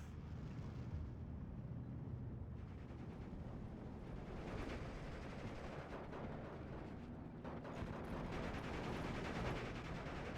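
Sustained .50 cal machine gun fire from a Hellcat tank destroyer and P-47 aircraft in the WWII strategy game Steel Division 2, a dense, continuous rattle of automatic bursts mixed with distant battlefield rumble throughout.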